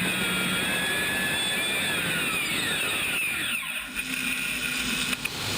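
A modified pulling tractor competing at the Eurocup tractor pull in Brande, Denmark, roars as a loud, steady engine drone with rising whine, sustained throughout, then thinning slightly near the end.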